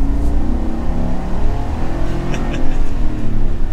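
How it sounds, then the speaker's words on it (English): A 2022 GMC Sierra 1500 Denali Carbon Pro pickup engine pulls steadily under throttle, a continuous low rumble building as the truck accelerates, heard from inside the cab with no talk. "we'll give it some gas."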